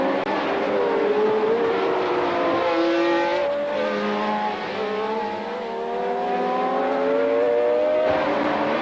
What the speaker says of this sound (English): Nielsen overtook the Ferrari and went to take his first and only Grand Prix victory.